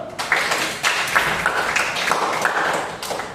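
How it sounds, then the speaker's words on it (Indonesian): A classroom of students claps together, a dense burst of hand claps with sharp individual slaps running throughout the short stretch, fairly close and without speech. "Tepuk tangan dulu."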